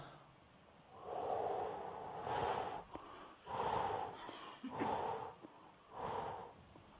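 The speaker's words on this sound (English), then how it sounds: "inhale, exhale." Deep breaths in and out during a Chi Nei Tsang breathing exercise, with about five slow, airy, wheezy breaths, each a second or so long, separated by short pauses, faint and close with no talk.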